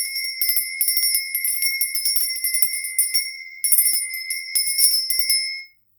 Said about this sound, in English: I'm going to be ringing the bell